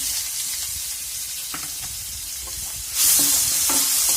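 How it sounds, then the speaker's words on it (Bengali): Chopped onion sizzles in hot oil in a pan after fried eggplant, a steady crackling hiss with a few soft stirring clinks, growing brighter and louder partway through. "পেঁয়াজ কুচিটা দিয়ে হালকা লাল করে ভাজবেন।"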